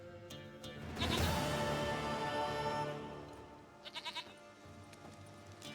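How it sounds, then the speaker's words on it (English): A goat in The Witcher 3 lets out a long, loud wavering bleat, followed a little later by a short burst of quick stuttering bleats, with quiet game ambience around them. "Goat of mine, dearest, sweetest goat."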